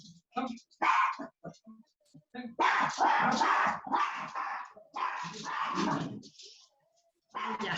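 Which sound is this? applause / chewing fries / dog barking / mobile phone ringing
dog barking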